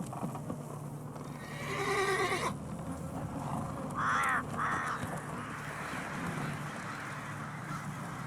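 Crows caw in short harsh bursts in The Witcher 3 while a horse whinnies and hooves clop nearby, set against a steady ambient background.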